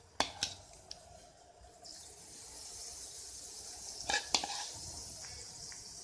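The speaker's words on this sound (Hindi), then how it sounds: "इसे भी हम घी में धीमी आंच पे ही अच्छे से पकने देंगे।" Malpua batter made from milk powder cooking in ghee over low heat, giving a faint steady sizzle with a few brief clinks of a utensil near the start and again toward the end.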